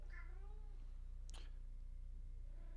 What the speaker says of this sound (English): I'm gonna feed my cat really quick because she's yelling at me